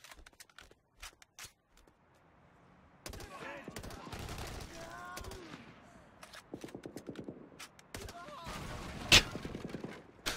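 Gunfire in the Xbox 360 light gun shooter Blackwater: rapid bursts of crisp shots, some isolated and some in quick strings, with louder automatic fire in the middle and a few sharp impacts late.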